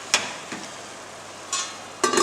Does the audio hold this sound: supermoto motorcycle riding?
no